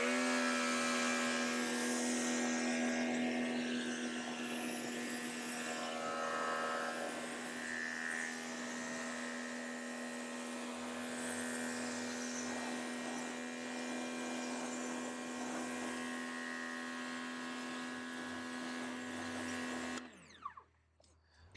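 A pressure washer rinses a Range Rover, its motor droning in a loud, constant, humming whine with a steady hiss of spray for about twenty seconds before cutting off abruptly.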